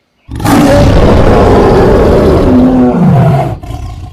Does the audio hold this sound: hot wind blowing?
no